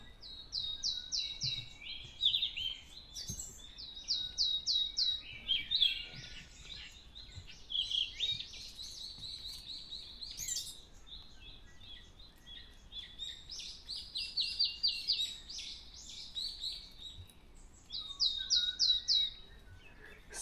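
Birds, among them a thrush, singing in the morning with repeated bright chirping phrases at a moderate distance, fairly faint, with no talk.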